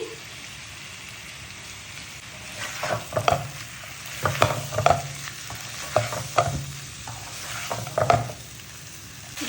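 Shrimp sizzle and fry in a pan with mankochu (giant taro), a steady hiss broken by repeated scraping stirs that come in short bursts every second or so, close up, with no talk.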